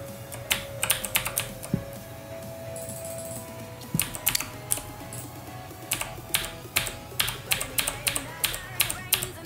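Quiet bursts of fingers tapping a computer keyboard, used to enter commands for a GrandMA2 lighting console. The clicks come in irregular runs and single taps, with brief pauses between them.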